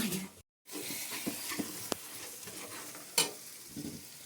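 Green peas being rinsed by hand in water, giving a steady wet swishing and sloshing with scattered small knocks and one brief splash near the end.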